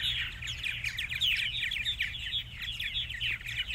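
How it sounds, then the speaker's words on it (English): Purple martins chirp and twitter steadily in a continuous bright chorus at their nesting houses in the evening, moderately near and fairly quiet, with no talk. "They'll get, 8, 10, 12 birds per house cavity here for the evening."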